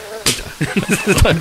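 A close mosquito buzz, whining on and off, with a voice murmuring briefly underneath.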